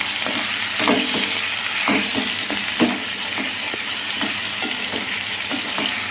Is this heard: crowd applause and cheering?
no